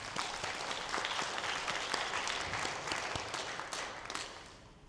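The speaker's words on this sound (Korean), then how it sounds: "우리 은평찬양단 박수로 격려하겠습니다." Congregation applause for a church choir, a dense steady wash of many hands clapping that fills the room at even strength and tapers off at the very end.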